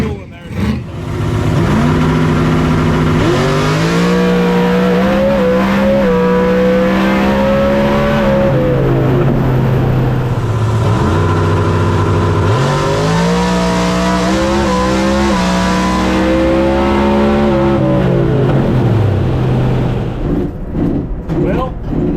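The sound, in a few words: drag race car launching down the track, wheelie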